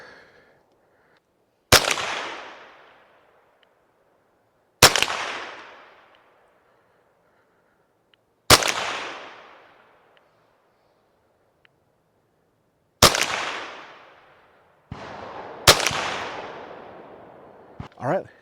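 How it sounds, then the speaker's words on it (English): Five sharp .22 LR rifle shots with Winchester ammunition crack out at irregular intervals of a few seconds, each loud and close with a short decaying ring, followed by faint outdoor quiet. "And then 5 more rounds of the Winchester long rifle 10 with the target on the right."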